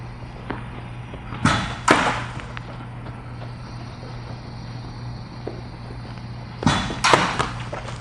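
A JUGS football machine fires balls at a receiver during drills, giving two loud pairs of sharp thumping launches, one pair early and one near the end, over steady outdoor background hum.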